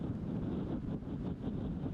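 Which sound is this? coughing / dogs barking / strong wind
strong wind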